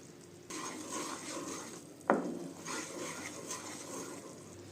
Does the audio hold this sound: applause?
no